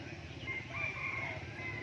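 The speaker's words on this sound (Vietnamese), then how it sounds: "gà rừng." A jungle fowl rooster crows at a bird market in Lang Son, Vietnam, one clear, fairly close call rising over a steady murmur of market background noise.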